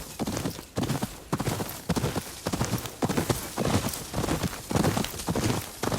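Steady clip-clop of horse hooves at a walking pace in the video game Ghost of Yōtei, close and rhythmic, with a faint creak of movement between steps.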